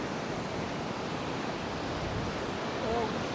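Rough surf churning along the shore at Paguera, Mallorca, a steady broadband wash of breaking waves with wind, loud and continuous for the whole stretch, with no clear break between sets.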